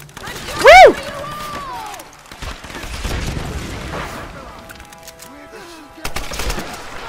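A grenade launcher fires in the Tomb Raider video game, with a sharp loud blast and whistling projectile early on, then scattered booms and rumbling impacts among game effects. An excited voice shouts at moments.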